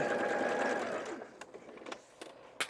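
A sewing machine runs steadily while back stitching scrap fabric for an envelope pouch, then the whirring stops and a few sharp handling clicks and rustles follow, close and fairly quiet.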